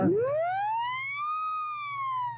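A synthetic siren wail on a 1939 radio broadcast rises and slowly falls in one long sweeping tone, loud and close, with a low steady hum underneath.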